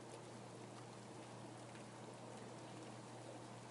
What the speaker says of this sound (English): The rain continues outside.